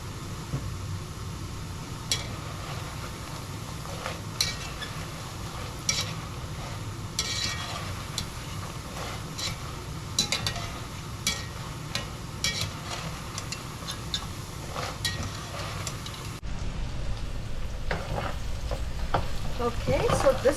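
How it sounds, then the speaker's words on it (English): Onions sauté in a pan, giving a steady soft sizzle of frying with repeated scraping stirs of a spatula. The sound stays fairly quiet and close, with brief clicks scattered throughout. "this is how the onion looks after 3-4 minutes of sauteing"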